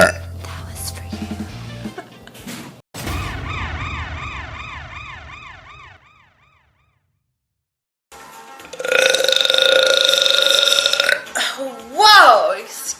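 A child lets out several loud, drawn-out burps in bursts separated by short pauses, with a near, raspy, warbling tone and a stretch of silence partway through; voices are heard around them.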